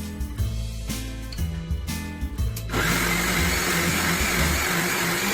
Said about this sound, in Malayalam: ഇത് ഒന്നും കൂടി ഒന്ന് മിക്സിയിൽ അടിച്ചെടുക്കണം